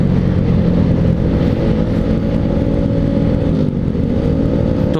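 A motorcycle with an aftermarket exhaust is ridden along an empty road, its engine drone loud, steady and close throughout with a slight dip and rise in pitch near the end.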